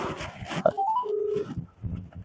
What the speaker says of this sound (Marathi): आता पाटलालाच फोन करतो बघू.